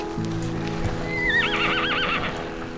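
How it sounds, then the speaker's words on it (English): Horses at a mountain-and-lake spot give a loud, wavering whinny over quieter hooves clip-clopping nearby, with a low sustained hum underneath and no talking. "Do you manifest these horses?"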